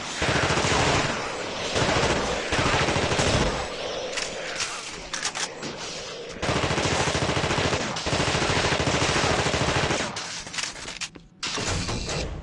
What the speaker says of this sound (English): He's a very good shot with his machine gun.